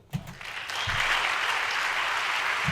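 Members of Congress applauding during a presidential joint address, sustained dense clapping from a large chamber audience after a brief thud, loud and steady to the end.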